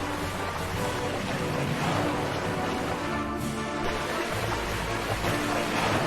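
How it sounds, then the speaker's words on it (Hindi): River waves crashing violently as a cartoon story sound effect, a loud, unbroken roar of rushing, churning water with a deep rumble underneath, heard alone and steady throughout. "नदी बहुत ही भयंकर और खतरनाक तरीके से लहर मार रही थी"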